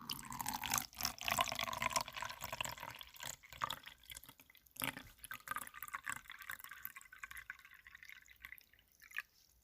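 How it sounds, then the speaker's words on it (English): Water poured in a steady trickling stream, then breaking into drips and splashes, close and moderately loud with no talk, in an audio roleplay about a water slime filling a cup. "I just gave you some water, silly."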